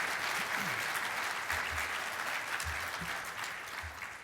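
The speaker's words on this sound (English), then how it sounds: "Let's give them a round of applause" Applause from a conference audience at a baseball analytics session, a steady wash of clapping that stays fairly faint and distant for several seconds and thins slightly toward the end.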